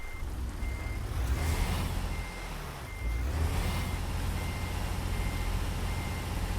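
Heavy truck in American Truck Simulator pulling away in reverse gear, engine revving loud and steady with a repeating reverse beeper pulsing throughout, no talk.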